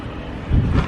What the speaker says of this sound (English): it's a bit windy round this other side here.